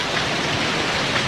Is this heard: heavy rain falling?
yes